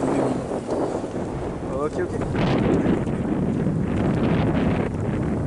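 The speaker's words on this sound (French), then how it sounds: "Le vent se lève, il y a de la neige." Strong wind gusting on a snowy day outdoors while geocaching, a rough buffeting roar hitting the microphone continuously, with brief speech heard over it.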